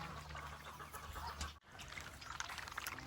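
Farm chickens cluck faintly and intermittently amid low background noise and trickling sounds, with no one talking.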